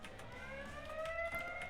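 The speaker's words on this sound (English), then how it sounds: "There's going to be an annoying alarm." Annoying alarm from the Taz: Wanted video game, a steady electronic tone with stacked harmonics that rises slightly in pitch and plays continuously at moderate loudness over busy game background sounds.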